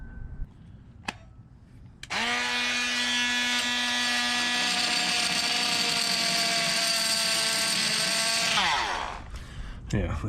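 A power tool cuts the head off a seized carriage bolt on a wooden gaff cutter being re-planked, a loud continuous whining grind for about six seconds that starts abruptly and winds down, with a few faint knocks before and after.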